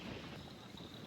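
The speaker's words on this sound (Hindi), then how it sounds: "ऐसी सी कुछ हवा चल रही है" Wind blowing across a valley in Meghalaya, a steady broadband rush buffeting the microphone throughout.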